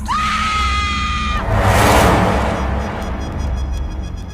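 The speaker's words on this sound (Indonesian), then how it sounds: "teriakan di dalam toilet itu terdengar semakin kencang" A woman screams from inside a toilet as a horror story sound effect, one long sustained shriek over a loud, rumbling eerie background that swells into a noisy wash and then fades.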